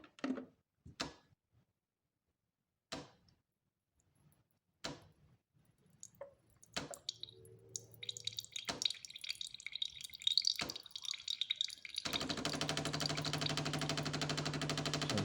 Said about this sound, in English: There's a little delay while it heats the water.